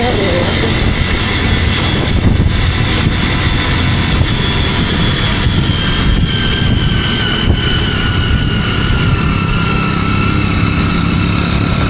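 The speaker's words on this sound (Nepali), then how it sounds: "यस्तै स्कुटरहरू आउँछ" A scooter engine labouring uphill near the Lete Khola bridge on the road toward Mustang, a loud, steady, droning motor note that runs throughout without a break.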